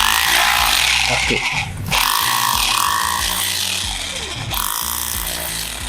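A MOLLAR HD826 SDS Plus 800-watt hammer drill bores into cast concrete with a loud, continuous grinding hammer, briefly dipping twice as the bit eases off. A single short word is spoken near the end.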